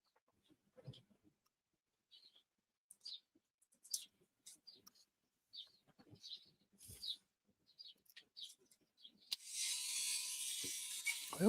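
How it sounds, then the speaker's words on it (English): Birds chirp and tweet in short, scattered bursts outside a shed, faint and intermittent, before a steady broadband hiss takes over near the end. "I always hear the birds in the background of your shed there"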